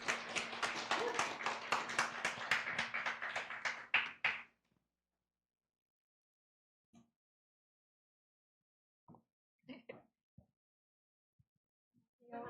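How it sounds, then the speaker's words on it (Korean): A church congregation at a Sunday afternoon service claps together in a dense burst for about four seconds, then falls quiet, leaving only a few faint, scattered taps and knocks. "이 시간 나오실 때 큰 박수 부탁드리겠습니다."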